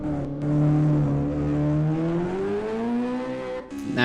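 The 2.5-litre, 350 bhp Millington engine of a Ford Escort Mk II rally car revs in the Assetto Corsa racing game, a loud, steady drone whose pitch climbs and then briefly dips.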